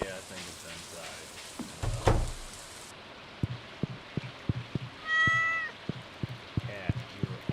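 A cat in the Stardew Valley video game gives a single clear meow midway, alongside steady rain, regular ticking clicks and a brief thud from the game.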